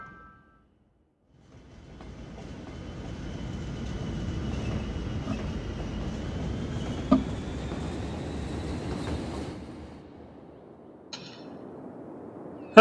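A train rolls through a city in the Cities: Skylines video game, a steady rumbling clatter that swells in, holds for several seconds, then fades, with a faint tonal whine above and no talk.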